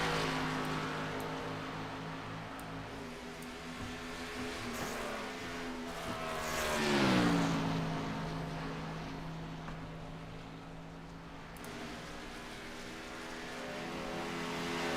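Race cars in a racing video game on the Darlington track, a steady droning engine hum with one car swelling louder as it passes close by mid-way, a rising-then-falling pitch sweep, then fading back into continuous engine noise.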